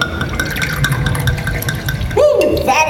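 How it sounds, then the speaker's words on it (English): Water poured into a cup during a stage demonstration, a short splashing fill near the end after a stretch of background noise and low voices. "Now, watch closely as I pour this water into the cup."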